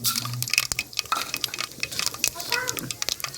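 Cumin, mustard seeds, urad dal and chana dal sputter and crackle in hot oil in a village kitchen, with close, busy popping and clinks of a spoon stirring the pan.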